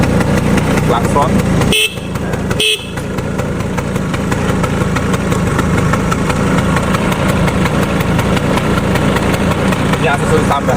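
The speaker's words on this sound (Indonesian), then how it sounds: "Klakson." An old Vespa scooter's engine idles steadily while two short, loud horn beeps sound about a second apart, then the engine hum carries on alone.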